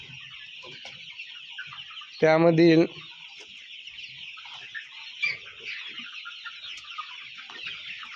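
Desi chickens in a 3,500-bird poultry shed, 45 days old, keep up a steady mass of soft clucking and chatter, with one loud close squawk early on and a brief voice heard once.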